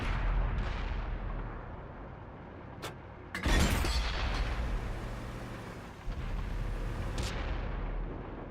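Tank gunfire in World of Tanks, a tier 10 Leopard 1 German medium tank battle: a steady low rumble broken by a few sharp cannon cracks and one heavy, loud blast in the middle.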